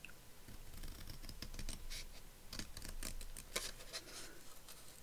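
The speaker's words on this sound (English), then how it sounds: "now I'm going to cut round here with a bit of a margin" Scissors snip around paper ephemera for a fabric and lace journal, cutting with a margin; a run of close, crisp snipping and scratchy paper sounds with no talk.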